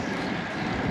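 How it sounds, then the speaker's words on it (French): Wind roaring across the microphone of a rider on a road bike during a 400 km ultra-distance ride around Paris: a steady, loud broadband rush with no pauses. "Là c'est un rap de vent."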